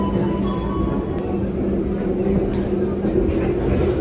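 Steady low rumble and hum inside a moving Sangkuriang executive-class passenger train, with a continuous drone and faint rattles, no talk.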